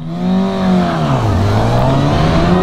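2018 Kawasaki ZX6R on Pirelli Diablo Rosso tires at WeatherTech Raceway Laguna Seca, engine screaming close and loud with a steady high-revving whine that dips and climbs through a shift under heavy wind rush.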